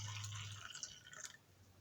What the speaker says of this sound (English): So I'm gonna go ahead and pour it directly in my glass.